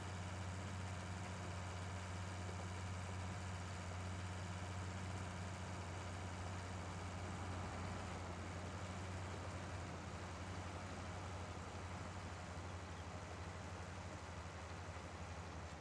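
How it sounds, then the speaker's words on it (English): A White 195 tractor pulling a cultivator in Farming Simulator 19, a steady low engine drone that holds constant and fairly faint throughout, with no voices. "this white 195 pulls that cultivator quite nicely"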